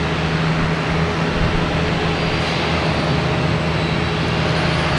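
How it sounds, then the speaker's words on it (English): An Aer Lingus A330-300 lines up on runway 4 right at Boston Logan Airport, its engines making a constant loud rumble and steady low hum with a faint high whine, with no voices. "We now have Aer Lingus, A330-300, flight 132, lining up on 4 right"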